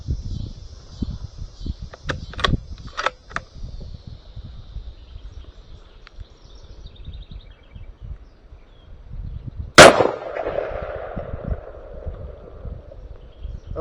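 A rifle fitted with a Pulsar Thermion thermal scope fires a single sharp shot outdoors, a loud crack with a brief ringing tail, after faint clicks and light rustling in a quiet field.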